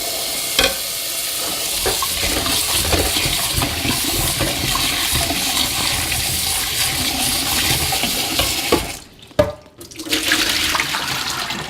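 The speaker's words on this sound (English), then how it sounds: "give the potatoes a little wash. Throw them in the pot and rinse them" Water sloshes and swirls around potatoes being rinsed in a pot, a loud continuous churning that dips briefly near the end before resuming.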